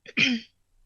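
One short, rough throat clear, close and fairly loud, then silence.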